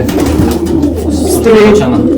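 Racing pigeon cooing close up, soft throaty coos repeating over a couple of seconds with a loud, near presence.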